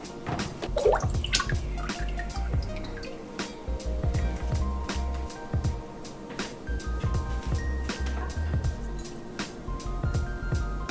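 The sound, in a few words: beer wort poured slowly into a strainer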